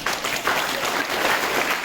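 Steady applause from a school assembly audience, a dense even patter of many hands clapping close by for the full stretch, with no voices over it.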